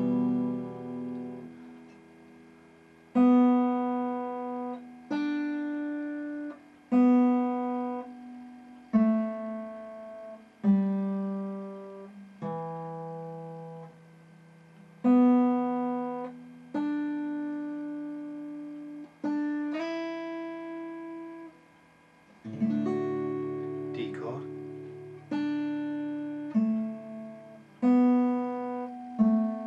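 An acoustic guitar plays the slow chord progression of a song, with clear strummed and picked chords ringing out one after another at a relaxed, even pace and no voice.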